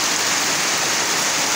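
Heavy rain falls steadily as a dense, loud hiss of drops, unbroken and without any voices, after three to four days of continuous rain.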